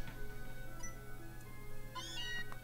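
Meowth's cry in the video game Pokémon Let's Go Eevee, a faint cat-like meow with a rising, wavering tone near the end, set over steady game background music and hum.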